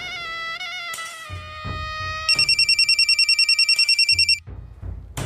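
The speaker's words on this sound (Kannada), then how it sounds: "ಫೋನ್ ಅಷ್ಟೊತ್ತಿಂದ ಬಡ್ಕೋತಿದೆ, ಹೋಗಿ ರಿಸೀವ್ ಮಾಡು." A telephone rings insistently in a home, first with sustained musical tones, then a rapid run of bright trilling bell pulses before stopping, loud and close with no talk over it.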